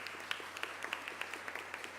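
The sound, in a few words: audience applause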